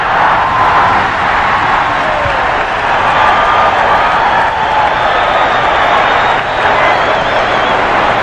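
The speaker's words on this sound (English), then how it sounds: "this is a Western crowd, and they're up on their feet cheering that play by Dr. J" A large arena crowd at the 1984 NBA All-Star Game roars and cheers steadily, a dense, sustained wash of voices holding at full volume from start to finish with no pauses.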